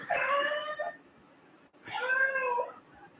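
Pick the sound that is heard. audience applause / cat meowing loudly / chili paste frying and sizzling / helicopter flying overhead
cat meowing loudly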